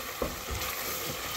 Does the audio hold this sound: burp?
no